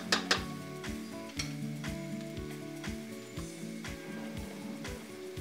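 Chinese-style fried rice with vegetables, meat, diced mushrooms and Chinese roots sizzles quietly in a pan, with a steady rhythm of utensil scrapes and clinks as it is stirred.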